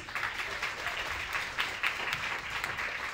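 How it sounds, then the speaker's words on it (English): An audience applauds healthcare workers at a community-based care event, a dense, even roll of clapping from a crowd throughout the brief moment. "So, round of applause."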